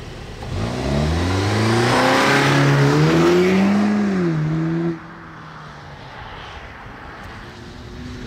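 A 2015 BMW 228i automatic with paddle shifters, launched at full throttle in a drag race: a loud, rising engine roar that climbs steadily through the revs for about four seconds, then drops abruptly to a lower, steadier drone.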